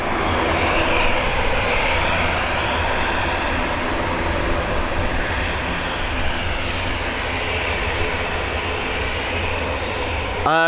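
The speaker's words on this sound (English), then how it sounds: "this Airbus A320 with the 2019 livery now, heading over to Birmingham" An Airbus A320 airliner in 2019 livery departs Dublin Airport's runway 28L for Birmingham, a loud, steady jet engine roar filling the whole stretch at close range with no talk over it.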